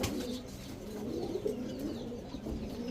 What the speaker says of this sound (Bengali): খয়রা গলা কবুতর